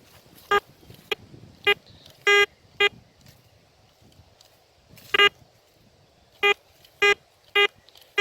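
A metal detector testing on thin silver emits short, sharp electronic tones, repeating in irregular bursts about a dozen times over a quiet background.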